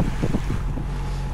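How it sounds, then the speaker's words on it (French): Wind rushes steadily over a sailboat at sea heading into a head swell, a loud, continuous roar of air with low buffeting and faint water motion, no voices. "Et là on a du vent"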